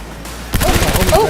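Gunfire in Cyberpunk 2077 breaks out after a short quiet lead-in, a quick run of loud shots packed close together with voices heard over the top.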